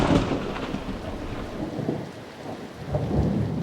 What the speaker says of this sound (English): By midday, the morning's drizzle has turned into torrential rain.